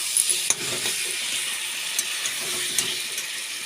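Rohu fish heads fry in oil with cooked-down spice paste, giving a steady close sizzle with occasional light pops and a faint scrape of stirring.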